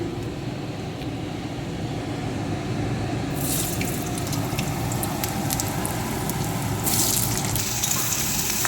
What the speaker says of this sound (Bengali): তারপর ওই তেলের মধ্যেই কেটে রাখা আলু দিয়ে দেবো